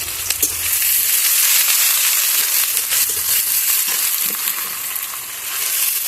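Chopped onion dropped into hot oil for spicy Maggi noodles, a loud dense continuous sizzle and crackle that holds steady throughout with no voices.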